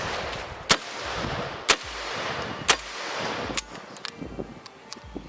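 A magazine-fed 12 gauge shotgun fires at an outdoor range: three sharp, loud blasts about a second apart, then a fourth, followed by fainter clicks and handling noise.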